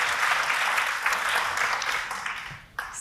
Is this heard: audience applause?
yes